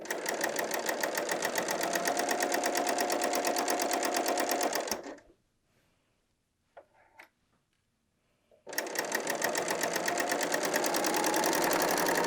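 A BERNINA L 890 sewing machine stitches across a seam of a woven top with a loud, steady rapid whirr. It runs for about five seconds, falls silent apart from a few faint handling clicks, then resumes at full speed.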